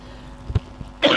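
A man with a sore throat gives a couple of short, close coughs and a throat clear, in quick succession before a breathy sound.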